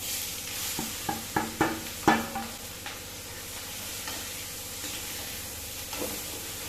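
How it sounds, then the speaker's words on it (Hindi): Long-cut onions frying in a pan with cumin for baingan bharta, with a steady broadband sizzle and a burst of clinks and stirring scrapes early on, then quieter frying. "और फिर डालूंगी ये प्याज कटा हुआ लंबा"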